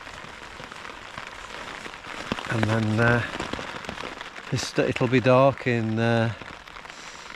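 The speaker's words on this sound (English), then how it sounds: "I'll just film a little bit in the tent while the rain's coming down on us." Steady rain patters on a tent pitched in rainy woodland, a soft continuous hiss that runs the whole time beneath a person speaking close by.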